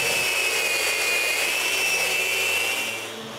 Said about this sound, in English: The next morning, I can make the first sanding.